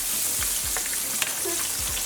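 Chicken pieces frying slowly over low heat in a pan, a steady broadband sizzle with a few soft scraping knocks as the pieces are turned, close and continuous with no talking.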